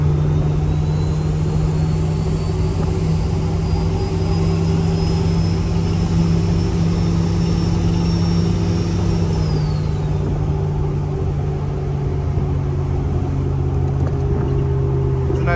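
A lifted Jeep XJ cruising on a road, its engine droning steadily while a turbo spool whistle rises gradually and then drops away, heard from inside the cabin with no talking.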